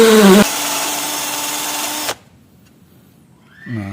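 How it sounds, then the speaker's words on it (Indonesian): A power drill with an 8 mm bit whines loudly and steadily for about two seconds boring through 18 mm plywood, then stops abruptly, leaving near silence before another brief mechanical sound. "Ini kita lubangin dulu memakai bor 8 mili"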